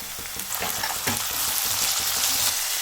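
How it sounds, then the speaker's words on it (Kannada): Chopped capsicum frying in hot oil with browned onions, a steady close sizzle with faint stirring clicks and scrapes in the pan, no voices. "ಇವಾಗ ಈ ಕ್ಯಾಪ್ಸಿಕಮ್ಮು ಸ್ವಲ್ಪ ಮಾಗಬೇಕು ಎಣ್ಣೆಯಲ್ಲಿ"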